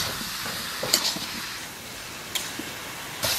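Ground coriander, cumin, chili and turmeric sizzle in a pan after a little water is added for a village-style egg curry. A soft, steady hiss continues with a few faint clinks of stirring.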